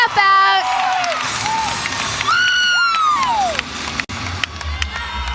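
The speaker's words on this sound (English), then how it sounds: "The crowd is so excited." An excited crowd cheers and whoops at a college gymnastics meet, loud and sustained with high shrieks rising over the roar, while a commentator's voice talks over it.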